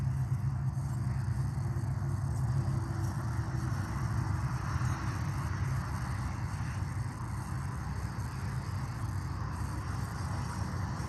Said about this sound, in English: it's very sensitive, so that's why you can hear the freeway noise